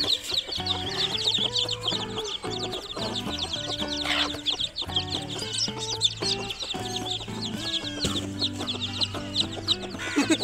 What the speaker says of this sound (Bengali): এখন আমরা এই মুরগিগুলোকে ঘাস খাওয়ার জন্য বাইরে নিয়ে আসবো